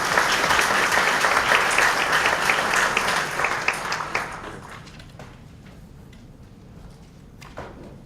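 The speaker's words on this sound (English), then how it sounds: "So please give a big round of applause to Dr." At a public health talk, a crowd claps loudly as the speaker is welcomed, then the applause thins into scattered claps and fades out.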